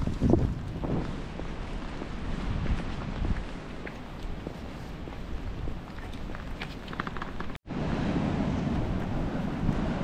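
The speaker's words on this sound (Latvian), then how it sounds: "Jūra arī nemierīga." Rough sea surf rolls in along the Mersin coast in winter, a loud, continuous wash of waves with strong wind buffeting the microphone throughout and a brief dropout near the end.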